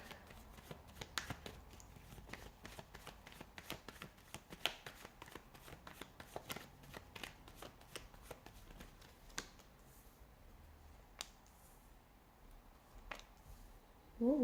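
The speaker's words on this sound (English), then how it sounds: "give the cards a shuffle" Playing cards shuffled for a tarot-style reading, a long run of quick riffling snaps and soft slaps close to the mic that thins out into scattered single flicks toward the end, with no talking.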